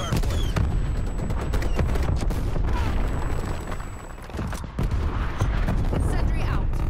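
An artillery strike in Call of Duty: Black Ops Cold War lands during a hardpoint match as a dense, loud barrage of booms and gunfire that continues throughout, with voices speaking over the din.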